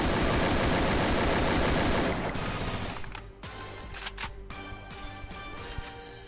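Dense, rapid Free Fire video-game gunfire roars continuously, then breaks into scattered single shots and short bursts as the barrage fades.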